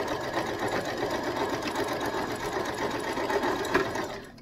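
A sewing machine stitches a fabric mask close to the edge in one steady, continuous run of fast whirring and needle chatter, close and clear with no voices.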